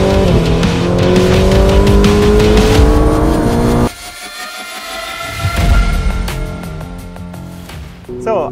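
A Ferrari 488 GTB accelerates hard on an Autobahn on-ramp, its engine climbing in pitch through rising gear pulls, cutting off abruptly at a shift before surging again, loud and close, with brief talk.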